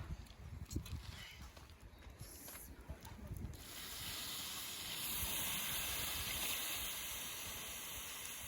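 Water poured onto an outdoor fire beside a creek, first crackling and spitting, then building into a steady loud hiss of steam that continues to the end.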